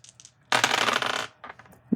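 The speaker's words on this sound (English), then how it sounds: "Astro dice for my Cancers." Astrology dice clatter and tumble on a hard surface in a bright rattling burst lasting under a second, with a few lighter clicks before and after as they settle.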